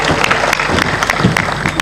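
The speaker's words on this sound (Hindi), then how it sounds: "जोर से बजाओ ताली।" A satsang audience claps in a dense burst of applause, loud and close, with many overlapping hand claps and a faint murmur of voices underneath.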